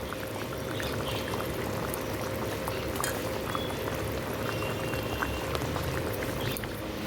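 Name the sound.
curry broth with lentil fritters and spices boiling in pot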